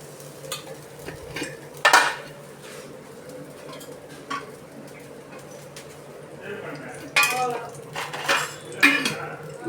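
Tempering spices in hot oil in a pan for chicken gravy: a metal spoon clinks and scrapes against the pan in scattered, sharp knocks over a low steady background hum, with a soft sizzle underneath.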